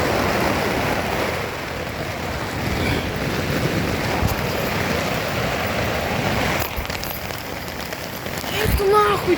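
Heavy rain drums steadily on a tent during a storm while people shelter inside, a dense, close wash of patter with gusty wind, and a voice speaks under it.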